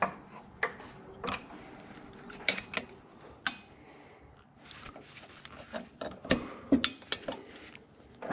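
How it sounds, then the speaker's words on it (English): A screwdriver works a retaining clip into place on a Detroit water pump during a rebuild, giving scattered sharp metallic clicks, scrapes and knocks, close and fairly quiet, with short pauses between them. "So we're gonna get a little help from a screwdriver here."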